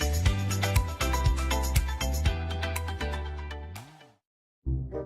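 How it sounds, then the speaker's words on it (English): A mobile phone ringtone in a radio advert plays as a loud, rhythmic electronic melody of repeated tones for about four seconds, stops abruptly in a short silence, then resumes. "Back in the day, Susie's phone used to ring like a hotline."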